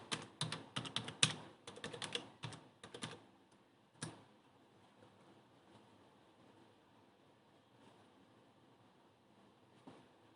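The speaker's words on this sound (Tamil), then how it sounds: "ஸோ நான் டைப் பண்ணுறேன்." Typing on a computer keyboard comes in quick, close bursts of clicking keys for about four seconds. A quiet stretch follows with a few scattered soft keystrokes.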